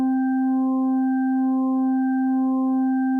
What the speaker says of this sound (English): let's switch over to the electronic side of our blend, our sine wave. Now, if we hold this note down,